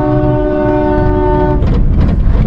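A loud train horn blares steadily for about a second and a half, then cuts off into rushing wind and rumbling train noise, heard from inside a mini-truck.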